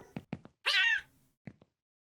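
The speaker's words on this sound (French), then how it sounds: "Mais il est fou ce chat! Mais pourquoi il fait ce bruit d'ailleurs?" A cat in a video game lets out one long, drawn-out meow between a few short thumps and clicks, with silence around it.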